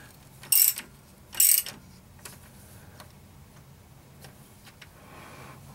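A ratchet tightens bolts on a 1947 Packard engine during bearing work, with two short bursts of rapid clicking followed by faint ticks and light metallic taps, close by with no talk.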